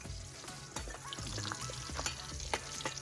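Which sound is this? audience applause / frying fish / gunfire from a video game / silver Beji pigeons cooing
frying fish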